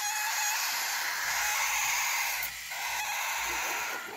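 Tiny chicks in a coop keep up a dense, high-pitched chorus of peeping that runs continuously and fairly close throughout, with no talk.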